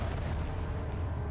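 A single gunshot from the Wii version of Resident Evil 4 lands as a dull, booming report over a steady low rumble, short and heavy with no voices over it.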